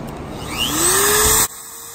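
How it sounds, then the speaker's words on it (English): Industrial Metabo tungsten electrode sharpener with a diamond wheel whines steadily at close range, its motor tone rising as it spins up, then cutting off sharply near the end, leaving a quieter background hum. "This is the new industrial Metabo Tungsten Sharpener right there."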